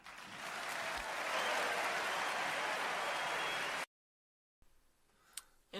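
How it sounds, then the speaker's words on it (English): A recorded audience breaks into applause, a dense wash of clapping that holds steady for several seconds and then cuts off abruptly, followed by silence and faint low noise. "it was interesting how many people agreed with him and were clapping"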